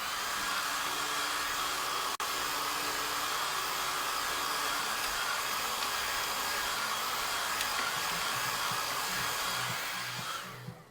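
A hair dryer blows on a chalk drawing of herbs, a loud, steady, close whooshing roar that runs continuously for about ten seconds before it winds down and cuts off.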